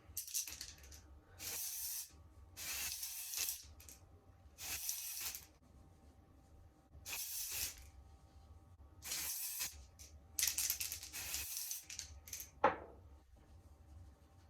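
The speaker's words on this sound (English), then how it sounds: "I'll spray the dry shampoo in, let it sit and let all the product absorb all the oils" Short hissing bursts of dry shampoo spray into hair repeat several times with brief pauses between them, close and fairly soft.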